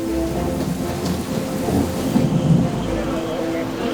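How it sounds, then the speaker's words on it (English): Heavy rain pours down during a storm at Leeds railway station, a dense continuous wash with low rumbling underneath, while voices speak faintly in the background. "We got another storm coming."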